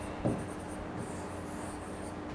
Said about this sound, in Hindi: और इसका ऑप्शन इस साइड लिख देता हूं मैं